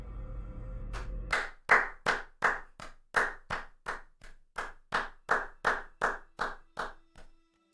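Slow, evenly spaced single claps in the fantasy role-playing game Pathfinder: Wrath of the Righteous, about fifteen crisp sharp hits in a steady rhythm following a low rumbling backdrop, heard alone without talk.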